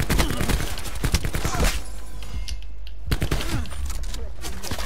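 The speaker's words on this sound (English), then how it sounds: "Why is everyone using shotguns?" Rapid bursts of shotgun fire in the Black Ops 4 free-for-all mode, loud and close, with clustered blasts, a short lull, then more shots, under some game noise.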